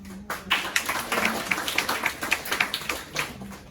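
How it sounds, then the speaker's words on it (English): A small audience claps at a Toastmasters club chapter meeting at NUS: a close, brisk patter of individual hand claps that starts suddenly, keeps a steady uneven rhythm for a few seconds, then thins out. "Let's give him a round of applause."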